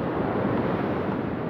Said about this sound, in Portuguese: Tá vindo uma onda. Tem arrebentação desse lado, ó.